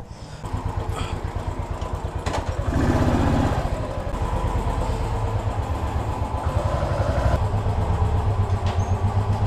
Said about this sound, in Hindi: तो बाइक को एकदम पार्क करा देता हूँ।